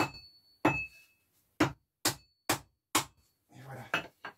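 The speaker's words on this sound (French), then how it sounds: "regardez-moi ça, bon coup de marteau" Several sharp hammer blows land at a steady, uneven pace while scrap is being dismantled and sorted for aluminium recovery. Each strike is loud and close, with a short metallic ring, and quieter rustling and clinking follow at the end.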